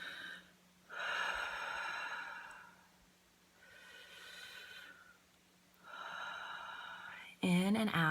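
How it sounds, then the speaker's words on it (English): Slow, deep meditation breathing in and out, heard close and alone as three long, airy breaths separated by quiet pauses, with a brief vocal sound at the very end. "I take a deep breath"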